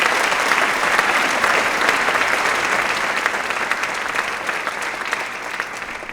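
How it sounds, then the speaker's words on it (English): Audience at a school holiday concert applauding steadily, a dense wash of clapping that holds for several seconds and eases off slightly toward the end, with no voices over it. "If you could give all of these people a round of applause."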